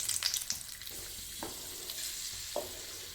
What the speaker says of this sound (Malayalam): എണ്ണ ചൂടായിട്ടുണ്ട്. നമുക്ക് അണ്ടിപ്പരിപ്പ് ഫ്രൈ ചെയ്തെടുക്കാം